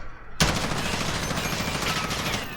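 Gunfire in Call of Duty Modern Warfare while aiming down sights: after a brief quiet start, a sustained rapid automatic burst of shots runs continuously to the end, dense and fairly loud.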